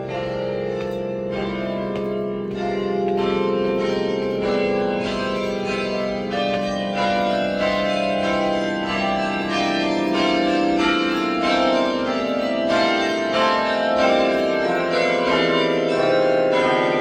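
Bells ring inside the Chimes Tower at Longwood Gardens, a dense, sustained wash of overlapping tolling tones that stays loud and continuous from start to finish, with no voices.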